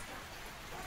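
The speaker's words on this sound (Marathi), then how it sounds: "परत जोर धरला पाऊस." Heavy rain falling outdoors, a faint, even hiss of drops on surfaces with no other sounds in the brief moment.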